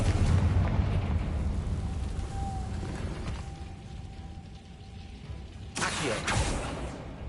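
Spell blasting in Hogwarts Legacy: a rumbling explosion fades into a low roar, then a second sharp burst cracks loudly near the end.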